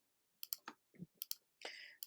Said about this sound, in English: you go to your handy dandy calculator and you just type in 1 minus